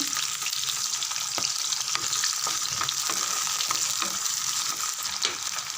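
Small onions and crushed garlic sauté in a pan with a loud, continuous sizzle and crackle, broken by light stirring scrapes throughout.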